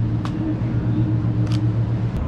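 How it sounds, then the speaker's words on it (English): Heavy buses roll past on a busy London street, a steady low rumble of traffic with faint brief clicks over the top and no talking. "So I have a bunch of buses coming past."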